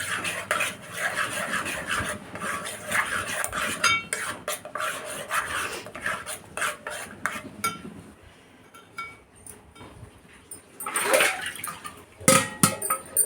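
Raw mango mixture is stirred in a pan with a spoon, giving continuous scraping and clinking of metal on metal, with louder, busier clatter near the end and no voices.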